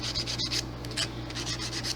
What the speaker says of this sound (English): I'm gonna take my nail file and I'm gonna buff it up